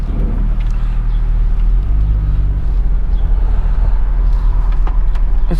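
A 1996 Jeep Grand Cherokee Laredo ZJ driving along, heard from inside the cabin as a steady, loud low rumble of engine and road noise with no talk.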